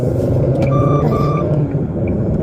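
A couple of short electronic warning beeps sound over the steady low rumble of a running vehicle.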